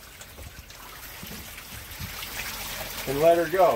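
A garden hose runs water down into a Volvo Penta engine to flush its cooling system, producing a steady trickling, splashing stream that someone talks over near the end.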